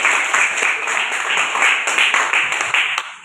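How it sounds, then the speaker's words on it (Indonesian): Students clapping in a high school classroom, a dense steady patter of many hands lasting about three seconds with no talk over it. "Luar biasa, Tepuk tangan."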